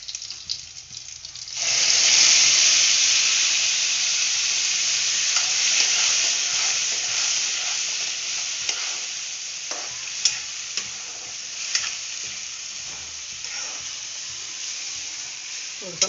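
Bombil fish and masala sizzle loudly in a hot pan while being stirred, a steady frying hiss with scraping clatters of the spoon, starting after a quiet opening and continuing throughout.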